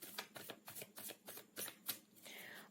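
Tarot cards shuffled by hand in a quick series of soft, rhythmic riffling flicks, fairly faint and close, with a brief sliding draw at the end and no talking.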